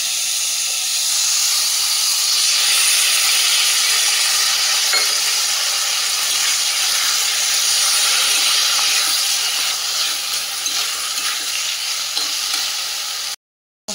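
Ready-made spice paste frying in a pan with pumpkin greens gives a steady, loud sizzle and hiss that holds almost unbroken at close range, then cuts off abruptly near the end.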